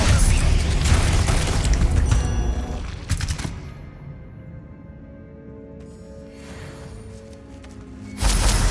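Expelliarmus disarming spell in Hogwarts Legacy, heard as a loud burst of booming, crackling magical energy that dies into a humming tail before another blast erupts at the end, with no talk.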